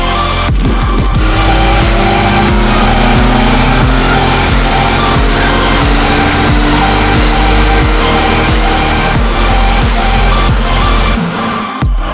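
Full-throttle dyno pull from a 2017 or 2018 Ford F-150 with a full-bolt-on 3.5L EcoBoost V6 on race fuel and meth, a loud roaring engine climbing steadily in pitch, with no speech.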